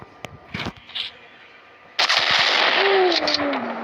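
Several sharp bangs ring out, followed by a loud sustained explosive roar with crackling debris and a rising whine as a truck blows up in a driving game.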